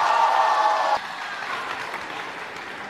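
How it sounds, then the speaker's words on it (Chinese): Applause from a crosstalk show audience, dense and steady, loud at first and then dropping to a softer, sustained patter. "感谢大伙儿掌声鼓励啊"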